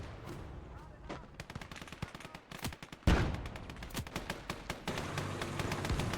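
Rapid gunfire crackles through a World War II battle in Gates of Hell: Ostfront as a T-34 tank faces a Pak-36 anti-tank gun, with dense irregular bursts of shots and one heavier, louder blast midway.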